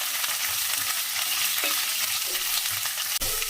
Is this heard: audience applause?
no